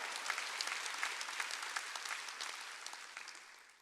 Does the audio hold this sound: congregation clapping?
yes